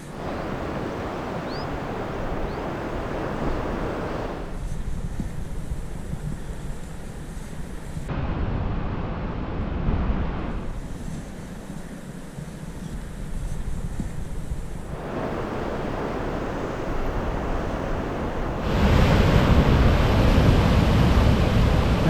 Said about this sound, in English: The endless waves, illuminated by the early morning sun,